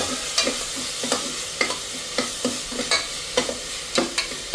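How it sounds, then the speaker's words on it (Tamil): Green masala sizzles in a pan for oak leaf fern soup, with a steady frying hiss broken by regular scraping stirs of a spoon about every half second, close and fairly loud. "இது நல்லா வணங்கட்டும்"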